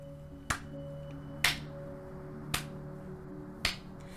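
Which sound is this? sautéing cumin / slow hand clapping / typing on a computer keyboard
slow hand clapping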